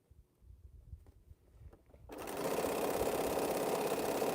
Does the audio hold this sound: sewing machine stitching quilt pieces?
yes